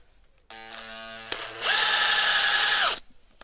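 A Makita DHP482 cordless drill driving a screw hums at low speed, then ramps to a loud, steady high-speed whine for over a second before stopping abruptly, with a sharp click in between.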